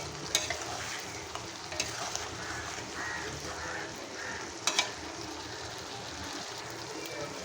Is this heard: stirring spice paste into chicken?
yes